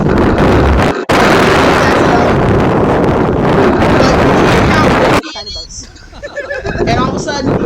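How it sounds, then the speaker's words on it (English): Strong wind roars loudly into the microphone during a cruise excursion, a dense continuous blast that drops out briefly near the start, then cuts off abruptly near the end, leaving a quieter, calmer stretch. "The point where there was really nothing but wind"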